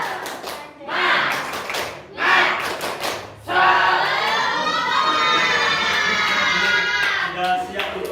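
Junior high students in a classroom perform a rhythmic spirit clap in two quick bursts of synchronized claps, then break into a loud sustained group shout, with a teacher's voice briefly at the end.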